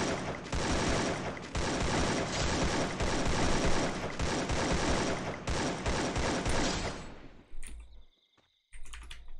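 Sustained rapid automatic fire from an AK assault rifle in the Free Fire video game, dense continuous bursts for most of the clip before tapering into brief pauses and a final short burst.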